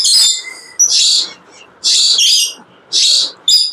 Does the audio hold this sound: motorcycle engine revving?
no